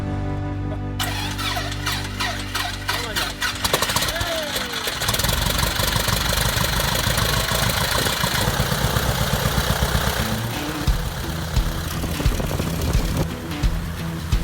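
Engine of a repaired Super Cub light airplane cranks and fires, then settles into a loud, steady, rough idle close by, with a rhythmic knocking pulse throughout.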